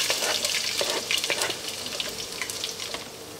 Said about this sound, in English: We're going to add our garlic and ginger.